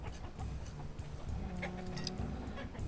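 Chickens in the village-building game Banished cluck softly and intermittently over a steady low ambient hum, with faint ticks and chirps scattered across the scene.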